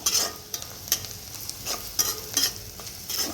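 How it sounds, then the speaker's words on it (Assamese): A spiced banana flower mixture with coriander, red chili powder and meat masala is stirred in a hot pan: quick, rhythmic scraping strokes over a continuous low sizzle, close and fairly loud. "এতিয়া সকলোখিনি দি লৰাই"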